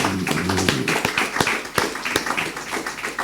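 A church congregation at a Sunday service applauds: scattered, sharp hand claps with a loose rhythm and moderate loudness, and a few voices heard briefly at the start.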